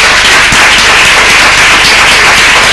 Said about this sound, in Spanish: me podéis permitir un aplauso a todos vosotros por vuestra asistencia